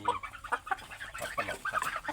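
Young Thai laying hens, a little over a month old, cluck and chatter continuously at close range, several birds overlapping in a busy, irregular stream of short calls.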